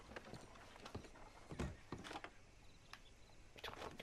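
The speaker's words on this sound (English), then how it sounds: "Just get back on the horse, Arthur." Horse hooves clip-clop at a walking pace in the video game Red Dead Redemption 2, faint, uneven thuds over a quiet background with some mechanical clatter.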